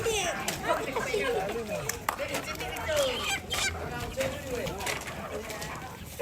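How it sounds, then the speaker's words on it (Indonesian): A crowd of chickens clucking and cackling at a Toraja Rambu Solo' funeral feast in Parinona, Malakiri, before slaughter, a dense close flock with people chattering throughout. "Wih, banyak sekali ayam."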